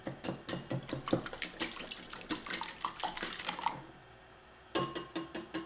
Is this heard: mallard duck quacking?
no